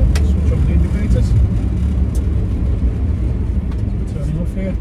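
A 1956 Morris Minor split-screen two-door on the move, its engine humming low and steady with road rumble for a few seconds, heard from inside the car.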